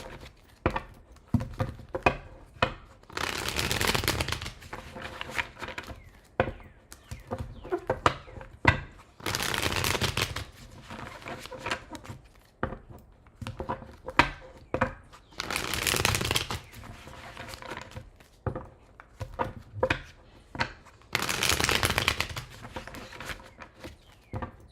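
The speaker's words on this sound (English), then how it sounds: "Last shuffle for Capricorns." Tarot cards being shuffled by hand: four bursts of riffling, each lasting a couple of seconds, with softer tapping and handling of the deck in between, close and fairly quiet.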